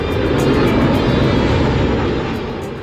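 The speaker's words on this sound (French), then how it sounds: "nous assistons au décollage de la patrouille de France." Patrouille de France Alpha Jets take off at an air show in Carcassonne, a loud, close, continuous jet engine roar that holds steady and fades slightly toward the end.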